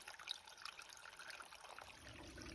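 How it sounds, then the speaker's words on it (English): Water trickling from a piped water source along the Appalachian Trail in North Carolina's Great Smoky Mountains, a faint, steady, close dribble with no talking. "Here's the water source. Obviously piped water."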